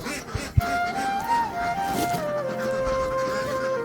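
Farm ducks on a pond give honking, drawn-out calls close by over faint outdoor background noise.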